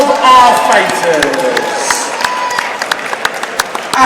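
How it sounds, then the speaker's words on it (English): Applause and crowd noise for two boxers at a Kingdom 7 Boxpark fight night, a loud burst at the start that settles into steady clapping with scattered sharp claps, under an announcer's voice. "can we please have a big round of applause for both of our fighters"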